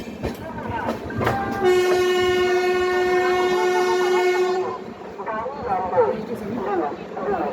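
A train arriving at a railway station in India sounds a long, loud horn with steady sustained tones over rumbling rail noise, while people talk nearby.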